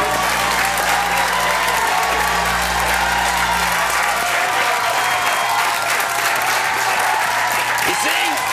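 A studio audience at a comedy talk show claps and cheers in a dense, sustained roar of applause that runs the whole length, loud and close, with a low hum fading out midway.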